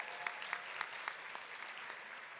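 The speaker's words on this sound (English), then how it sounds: "Give yourselves a round of applause to the most recent group." Audience applause at a women's grit gala, a dense steady patter of many hands clapping throughout, with a few sharper claps standing out near the front.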